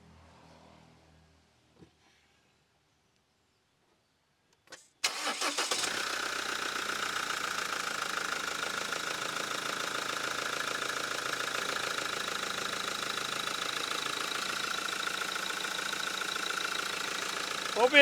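After several seconds of near silence and a couple of faint clicks, a Mahindra XUV500 BS6 with the mHawk 155 engine cranks and fires, then settles into a steady, even idle that holds to the end.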